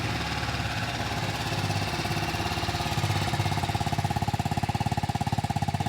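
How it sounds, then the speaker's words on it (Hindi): A TVS Apache RTR 310 motorcycle engine runs at idle nearby, a steady, loud mechanical thrum that grows into a more distinct pulsing beat toward the end, with no talk. "अब इसका एग्जॉस्ट साउंड कैसा सुनाई देता है तो वो मैं आप लोगों को दिखाऊंगा। तो सबसे पहले मैं एक बार इसका स्टार्ट कर लेता हूँ।"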